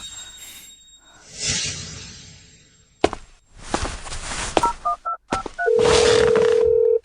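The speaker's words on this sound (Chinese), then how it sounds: "黑鹰，你怎么想起给我打电话来了" Several short electronic keypad tones beep one after another between rustling and shuffling, followed by a long steady ringing tone.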